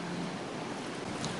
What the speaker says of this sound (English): That's water pouring like a river down the side of my house into the street